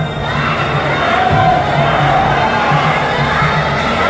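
Loud crowd cheers and shouts fill a Muay Thai boxing match venue, a steady dense roar of many voices with chanting pulses throughout, sustained without pause.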